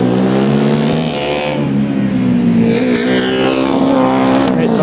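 Formula Student race car accelerating hard on track during an endurance event in Germany, a loud, close engine climbing steadily in pitch with rising revs throughout, no voices.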